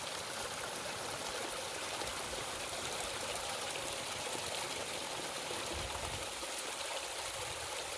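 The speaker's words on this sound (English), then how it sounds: "we see this spring bubbling down, and there's a bigger creek that goes to a waterfall up that way" Spring water bubbling down into a woodland creek, a steady, close rushing and trickling flow that runs unbroken throughout, with no talk.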